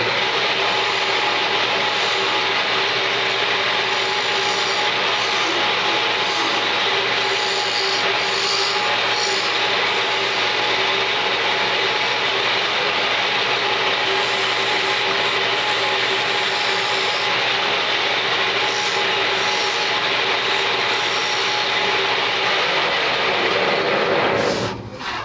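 Bowl gouge turning a maple box on a wood lathe, a steady loud drone of the spinning lathe with the tool's constant rushing scrape running without a break and cutting off abruptly at the end.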